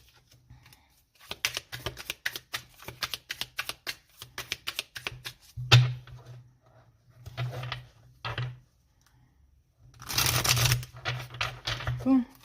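Tarot cards being laid out one by one for a reading, a run of quick soft card slaps and flicks with pauses in between, with a voice speaking over parts of it.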